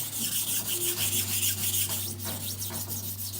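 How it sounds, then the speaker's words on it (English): Steady rhythmic rasping of a knife blade scraped back and forth across a sharpening stone, close and continuous with a low constant hum underneath. "This is how you sharpen a knife, actually."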